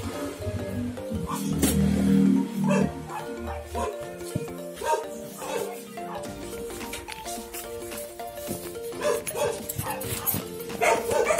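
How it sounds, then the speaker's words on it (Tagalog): Several dogs bark noisily and repeatedly at close range, with yips and whimpers mixed into a busy outdoor scene, with some voices in the background. "Masyadong maingay mga aso."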